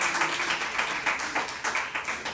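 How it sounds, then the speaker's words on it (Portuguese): A church congregation claps together in a steady rhythmic beat, dense and fairly loud, with a blended wash of many hands. "aplauda o Senhor com o seu melhor"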